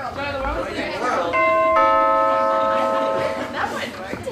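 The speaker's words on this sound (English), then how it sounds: "Let's do Ring the doorbell." A doorbell chime sounds during a community theater stage production of a Christmas pageant, two sustained ringing tones entering one after the other and holding for about two seconds before fading, fairly loud over a murmur of room noise and faint voices.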